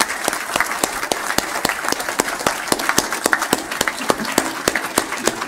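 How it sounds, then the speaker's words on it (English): An audience applauds a panel discussion at a blockchain talk, with dense, steady clapping from many hands that holds at an even level throughout. "And applause here"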